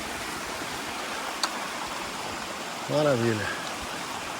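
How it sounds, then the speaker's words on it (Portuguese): A small cascading waterfall on a forest trail gives a steady, close broadband rush of falling water throughout, while a person briefly speaks over it. "Terceira cachoeira da trilha. Cascatinha."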